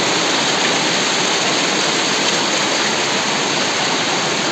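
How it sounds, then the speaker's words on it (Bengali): Heavy monsoon rain pours down in Nuwara Eliya, Sri Lanka, a dense, loud, unbroken roar of water that fills the whole stretch with no voices over it. "শুধু আওয়াজটা শুনুন, বর্ষা যে নামছে"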